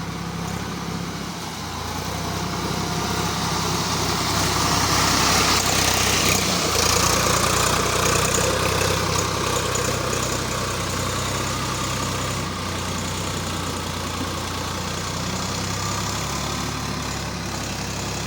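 A Swaraj 744 FE tractor engine runs steadily while driving a rotator through muddy rice paddy, a loud, continuous low diesel drone with a slight swell in load partway through, close up and without voices.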